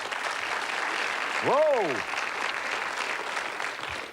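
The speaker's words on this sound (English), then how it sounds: "A little applause." Audience at a pub quiz night giving a short burst of applause, steady clapping from a crowd throughout, with a person calling out an exclamation midway.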